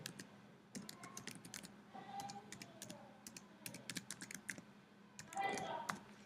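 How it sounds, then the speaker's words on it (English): Someone types a domain name on a computer keyboard, producing bursts of quick, crisp key clicks in an uneven rhythm, with faint background sound underneath. "I type my domain."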